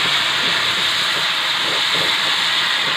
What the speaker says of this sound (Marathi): आता ह्याच्यात टाकायचं पाणी शिजायला ते पाणी पाहिजे